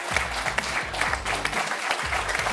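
A TV studio audience on a football talk show set applauds a guest, a dense, continuous patter of many hands at even volume with a low rhythmic thump running beneath it.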